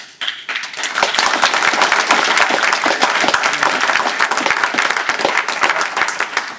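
An audience at a political talk breaks into a loud, sustained round of applause, dense clapping building quickly and holding steady throughout without any speech.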